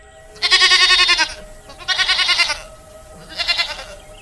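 Goats in an animated story bleat three times, loud and close, each call a long, wavering, quavering cry separated by short pauses, heard alone without talk.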